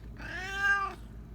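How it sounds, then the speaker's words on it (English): A gray cat gives a single clear, close meow that rises and then falls away over about a second in a quiet room. "This is my gray cat."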